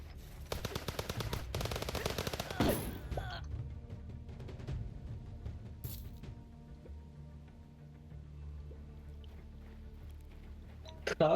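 A turret in the Minecraft Paladium game fires a rapid, loud burst of automatic shots for about two seconds, then stops, leaving quieter game sounds with voices talking.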